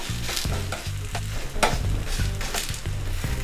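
Nendran banana adai sizzling gently on a pan over a low flame, a steady soft frying crackle with occasional scraping touches of a spatula, heard close and alone.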